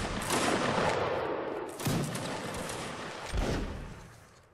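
Musket volleys in Mount & Blade: Warband, with three loud, booming shots that roll out into long reverberating tails, close and dominant with no talk.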